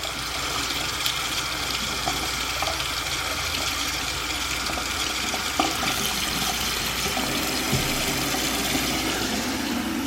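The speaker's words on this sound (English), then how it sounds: "I'm doing a hot water test here." Hotel bathroom sink tap running water, a steady hissing stream that stays even and unbroken for the whole stretch, with no talking.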